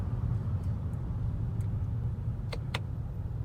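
Car slowing with paddle-shift downshifts as it comes up to a traffic light, a steady low engine and road rumble with a couple of brief clicks near the end.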